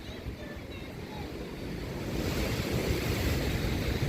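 Ocean waves churn and splash against Jennette's Pier in Nags Head, North Carolina, with a constant rushing roar that builds slightly, mixed with wind buffeting the microphone.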